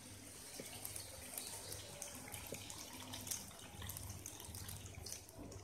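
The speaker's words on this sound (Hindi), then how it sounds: "हम अब इसमें थोड़े से पानी ऐड करेंगे।" Water runs and splashes into a pot of dhaba-style mutton curry with crushed kasuri methi, a soft, fairly faint continuous trickle with light gurgles throughout.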